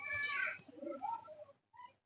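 Pigeon from a prized breeding pair of Aistar Silver Bagha pigeons in a loft, a few soft cooing calls close by, then a short pause before one more brief coo.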